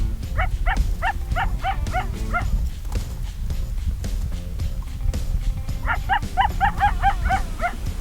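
A dog barking persistently near an elk hunting area, two bursts of rapid repeated barks at moderate distance separated by a quieter gap, over low outdoor rumble.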